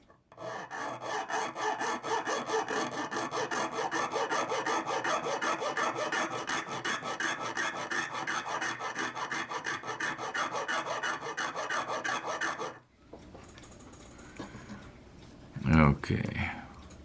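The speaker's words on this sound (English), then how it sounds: "square these up on my file" Harsh rhythmic rasping of a file squaring up a wooden model ship part, scraping back and forth for about twelve seconds, then stopping, followed by brief quiet handling noise.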